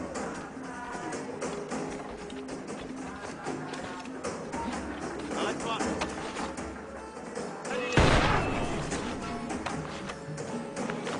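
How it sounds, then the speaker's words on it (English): Adewale fires his blunderbuss in Assassin's Creed Freedom Cry, a single loud, broad blast with a decaying tail that rises abruptly out of a steady bed of music and game ambience. "it's best to use the blunderbuss, Adewale's powerful new weapon"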